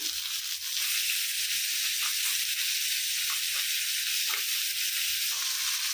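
Onion and curry leaves frying in hot oil, a steady close sizzle and hiss that flares a little as the pan settles, with no voices.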